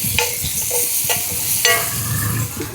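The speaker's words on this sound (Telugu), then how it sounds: "వీటిని అయితే కొద్దిగా దోరగా వేయించుకుందాం." Thinly sliced onions fry in hot oil in a village-style kitchen, a steady close sizzle with a few stirring scrapes and clinks over about three seconds, no talking.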